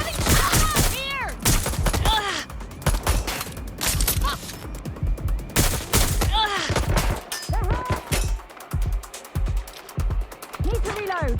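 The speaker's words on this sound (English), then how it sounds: "I'm getting shot at here!" Heavy gunfire in Watch Dogs Legion: repeated bursts of loud close shots and volleys across the whole stretch, with brief pauses between salvos and voices shouting over the shooting.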